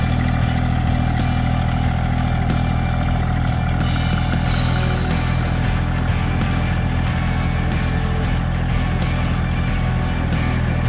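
A tractor engine runs steadily and close by as it carries a wooden beam on its front bucket at an off-grid cabin build site, giving a continuous mid-pitched drone with light clatter.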